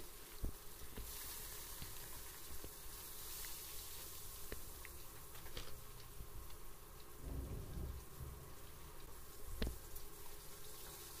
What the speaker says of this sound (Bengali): আস্তে আস্তে আমি যে মাছগুলোকে চারটে চারটে করে আমি ভেজে নেব